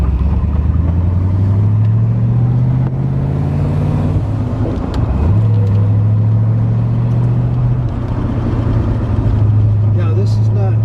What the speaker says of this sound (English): you really feel like you're driving a car